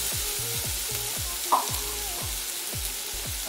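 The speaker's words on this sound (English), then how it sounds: "Then we add our green pepper." Chopped green pepper frying in a hot pan, a steady bright sizzle with repeated scraping stirs of a utensil and a sharp clink near the middle, close and even throughout.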